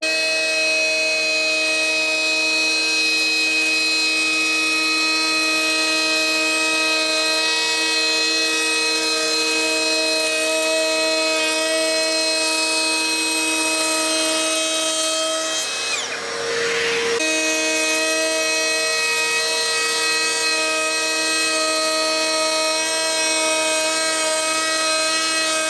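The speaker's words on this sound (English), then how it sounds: "Next up, we've got this double radius bit, which will produce a convex and concave radius on our piece of timber." A router spinning a double radius bit cuts a convex and concave profile into timber moulding, a loud, steady high-pitched whine with strong tonal bands that dips briefly mid-cut before resuming, with no talking.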